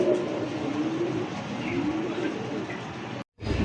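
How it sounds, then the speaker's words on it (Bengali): A pair of magpie pigeons coo steadily in a bird market setting, their low throaty calls layered over constant background noise, with no voices, until a brief cut near the end. "একজোড়া ম্যাকপাই কবুতর"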